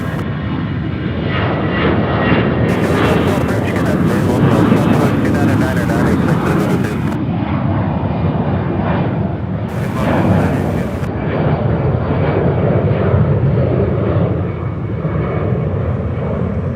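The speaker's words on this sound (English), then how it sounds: "runway 36 center, clear for takeoff." An airliner takes off from runway 36 center at Charlotte Douglas International Airport, a loud, continuous engine roar that holds steady throughout, with radio chatter heard faintly alongside.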